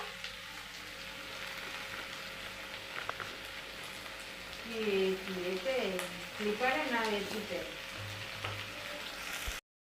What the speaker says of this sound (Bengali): সবজি ভাজা হয়ে গেছে সব